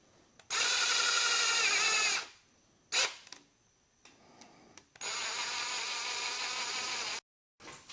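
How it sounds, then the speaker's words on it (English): A power drill runs ARP head studs down into an engine block in short loud bursts, two long whirring runs with brief blips and pauses between, close by. "We put them down with the drill"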